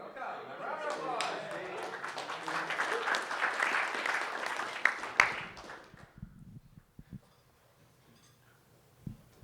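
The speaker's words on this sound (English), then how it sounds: "A round of applause." A conference audience at the FQXi 2014 gathering in Vieques breaks into applause, a dense burst of many hands clapping that holds for about six seconds, then thins to a few scattered claps, with voices mixed in.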